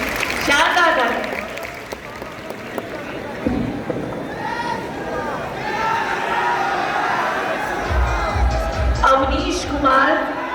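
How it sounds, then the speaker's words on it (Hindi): Applause and cheering from a large class crowd at a physics coaching session, clapping mixed with shouts and lively chatter, loud throughout with voices rising over it near the end. "शानदार तालियां।"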